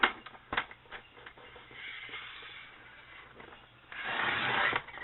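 A paper trimmer slicing through folded card stock during card making, with scraping blade strokes and clicking handling noises, close and moderately loud, ending in a longer rasping cut.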